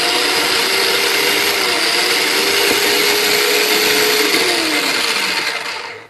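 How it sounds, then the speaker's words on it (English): A small blender purees watermelon, a loud, steady whir held close for about five seconds with a slight drop in pitch near the end, then cut off. "Okay, so I'm actually going to do the pureeing now."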